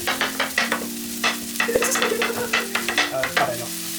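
Beef and cheese sizzle steadily on a hot griddle while a metal spatula chops and scrapes in a quick, irregular rhythm of close, sharp clacks over the constant frying hiss.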